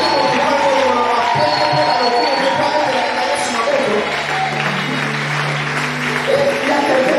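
A church congregation claps and cheers for Jesus in a dense, continuous wash of applause that stays loud throughout, with voices mixed into the noise.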